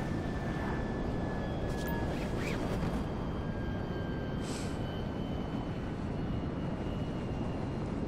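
Small airplane flying in the video game GTA V, a constant broad engine and wind roar that stays loud and steady throughout, with faint higher whines drifting through.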